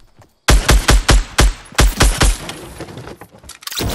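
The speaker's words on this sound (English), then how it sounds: "Someone's shooting at me." Gunfire in Fortnite, a loud close burst of about ten rapid shots fired in an uneven rhythm, then a brief lull before more noise starts.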